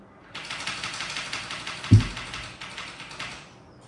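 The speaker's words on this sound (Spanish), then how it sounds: "está por sacarle las teclas al teclado" Loud, fast typing on a computer keyboard rattles in a rapid, continuous clatter of key presses, close by, with one heavier thump partway through and no talking.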